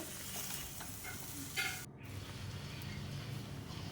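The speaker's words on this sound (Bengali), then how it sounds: "আলুটা যেহেতু দিয়েছি তাই একটুখানি নেড়ে নিব।" Mutton and potatoes are stirred in a pan over the heat, with a quiet, continuous sizzle and soft scraping strokes heard close by, with a brief louder scrape midway and no talking.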